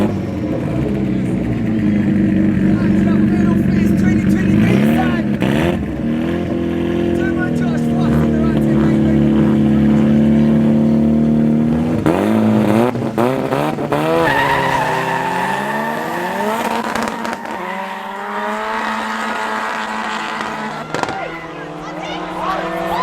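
Front-wheel-drive street cars drag race, engines roaring and revving hard while tires spin and squeal for grip, with rising gear-by-gear pitch sweeps; an announcer commentates over the loud, continuous noise.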